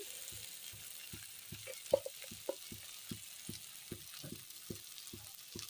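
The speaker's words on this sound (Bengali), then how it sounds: "মশলা ভালো করে কষিয়ে নিচ্ছি" Spices fry in a pan with a soft, steady sizzle while a spoon stirs them in a regular rhythm of quiet scraping strokes, about three per second, close by and faint.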